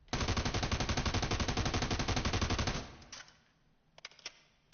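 A long, rapid burst of automatic gunfire rings out loud and close while aiming down sights in the video game America's Army, then cuts off, leaving a few scattered clicks and faint bangs.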